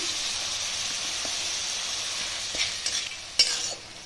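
Onion paste and chopped ginger sizzle and fry in hot oil for a Bengali shol fish curry, with a steady hiss broken by a few scraping stirs toward the end.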